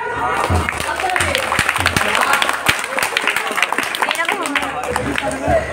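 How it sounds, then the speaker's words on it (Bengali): An audience claps hands together at a devotional storytelling gathering. The clapping is a loose, steady patter mixed with constant talk throughout. "একটু জোরে জোরে হাত তালি হয়ে যায়"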